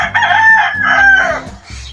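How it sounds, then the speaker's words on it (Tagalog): Roosters crow at a farm on an overcast early morning, with one loud, close, drawn-out cock-a-doodle-doo followed by a second crow and some clucking around it. "Yan mga kamanok."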